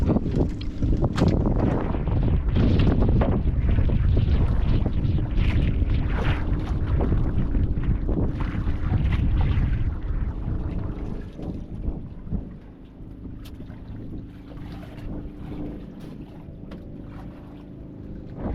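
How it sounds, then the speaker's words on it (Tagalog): Strong wind roars against the microphone in heavy, loud gusts, then eases to a softer rumble near the end. "Ayan mga ka-adventure, napakalakas na ng hangin."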